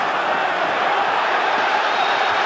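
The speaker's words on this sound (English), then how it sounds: "The crowd erupts as Trinidad comes forward." A boxing arena crowd at a Felix Trinidad bout roars in a loud, dense, continuous wall of cheering and shouting that holds steady for the whole moment.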